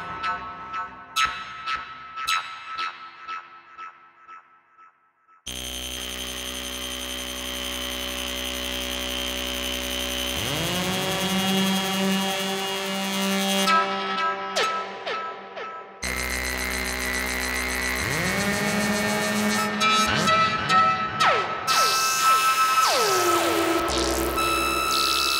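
Syntrx 2 synthesizer running a random clock patch with the main audio mixed into the envelope follower trigger detector, producing irregular beeping pulses, sustained buzzy drones and sudden shifts between tones, with no voices.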